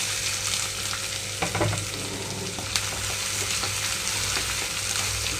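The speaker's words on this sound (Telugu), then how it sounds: "ఇవన్నీ వేగిన తర్వాత కట్ చేసి పెట్టుకున్న ఉల్లిపాయలు అలాగే పచ్చిమిరపకాయలు వేస్తున్నాను" Chopped onions and green chillies hitting hot tempering oil for a ridge gourd and coconut curry, a dense close sizzle with a few scraping stirs and a sharp clack.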